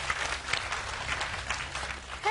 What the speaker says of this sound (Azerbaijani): alqışlar sizindir